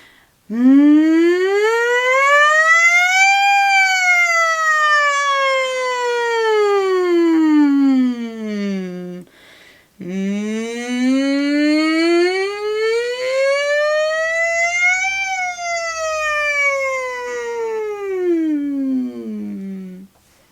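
A human voice imitates a humming siren: a smooth, rising-and-falling hum, held loud and steady, repeated twice with a short pause between.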